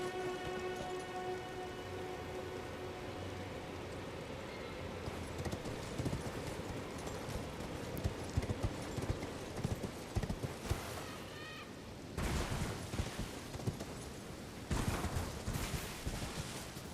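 A horse's hooves clip-clop rhythmically as it gallops in the video game Elden Ring, steady and close, with rain pattering in the background and a brief whinny.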